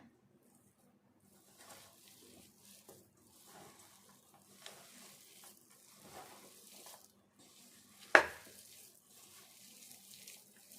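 Potato pakoda batter, Telangana-style aloo pakodi, being mixed by hand in a bowl: soft, wet squelching and stirring comes in quiet, irregular bursts, with one sharper knock against the bowl near the end.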